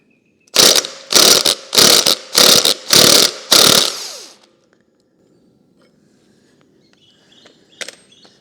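An impact gun works a 32mm nut on a Fiat 600, six loud rapid hammering bursts in quick succession, close, followed by quiet with faint clinks near the end.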